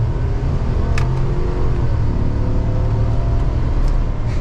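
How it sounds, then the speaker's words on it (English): A 2023 GMC Sierra 1500 AT4X pickup with a V8 engine pulls away, its steady low engine rumble and road noise loud and continuous from inside the cab. "we are setting off now in the Sierra"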